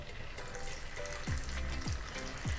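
Marinated prawns frying in hot oil, a steady close sizzle with a few tonal clinks or scrapes, no talk.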